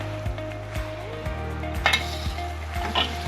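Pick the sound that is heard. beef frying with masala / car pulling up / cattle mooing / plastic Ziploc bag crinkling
beef frying with masala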